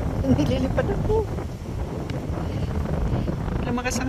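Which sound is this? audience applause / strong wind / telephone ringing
strong wind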